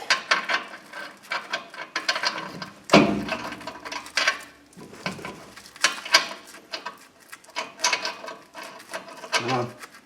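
Ratchet clicking in short irregular bursts while tightening a ball joint nut on a 2002 Ford Ranger, close and moderately loud, with clanks of tools and parts between strokes.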